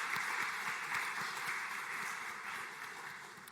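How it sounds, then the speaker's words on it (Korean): Church congregation applauding young adults at a Wednesday youth dedication service in Bucheon, a steady dense wash of clapping that holds evenly and fades slightly toward the end, with no voices over it. "우리 청년들 다시 한번 격려하고 축복하는 박수 하도록 하겠습니다"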